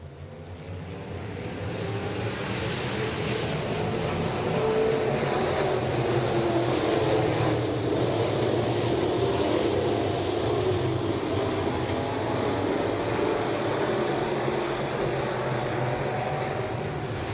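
B-Modified 305 sprint cars race at I-90 Speedway, their engines building into a loud, continuous roar over the first couple of seconds and then holding steady as the pack circles the track.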